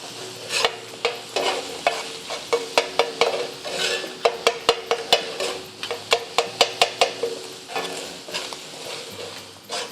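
Minced keema is stirred and mixed on a tawa, a spatula clacking against the hot metal in quick rhythmic strokes over a continuous close sizzle, with no talking.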